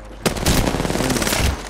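Rapid bursts of automatic gunfire from the video game Apex Legends start abruptly and stay loud and close, a dense crackling stream of shots with no talk over it.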